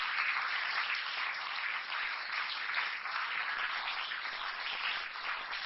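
Sustained applause from an appreciative crowd at the 1996 WEPF men's pool final, a steady dense wash of clapping that holds evenly throughout with no pauses.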